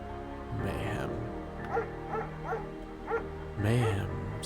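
A shepherd dog in the video game Firewatch gives several short yips and whimpering barks, close and moderately loud, with a longer bark-howl at the start and end and a voice talking over parts of it.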